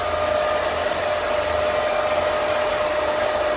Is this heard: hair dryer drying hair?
yes